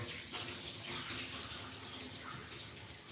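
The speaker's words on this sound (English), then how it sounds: "I just pour this down the drain" Used film-developing chemical liquid pours steadily down a sink drain, a continuous close splashing rush of liquid.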